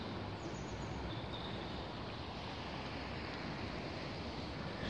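The Ogwr River flowing outdoors in January, a steady broadband rush of water mixed with wind buffeting the microphone, continuous and fairly loud with no clear breaks.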